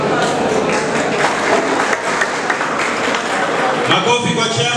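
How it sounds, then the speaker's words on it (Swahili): A hall crowd at a committee election gathering in Malindi gives a burst of loud, dense clapping for the chairman, sustained throughout with voices mixed in and a clear spoken voice near the end. "makofi kwa chairman tena."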